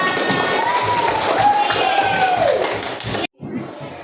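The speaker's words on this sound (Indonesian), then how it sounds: "Sekali lagi kita beri aplaus untuk kita semua" Children in a classroom clap together in a rhythmic round of applause while a voice speaks over them; the clapping stops abruptly, then resumes faintly.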